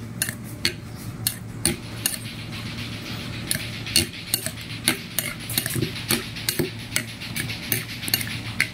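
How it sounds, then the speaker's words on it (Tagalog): Pickled white oyster mushrooms being stirred in a jar or bowl, giving a steady run of soft wet squelches and sharp clinks of a utensil against the container, heard close and alone. "Ngayon, hahaluin natin, mga kamag."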